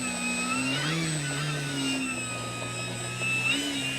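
A model aircraft taxis on noisy wheels, its engine whining at a steady pitch that shifts up and down slightly, with rattling wheel noise underneath, close and continuous.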